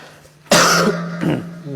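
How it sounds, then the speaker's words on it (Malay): A close, harsh cough bursts out, followed by a second rougher cough and a bit of throat clearing. "Batuk."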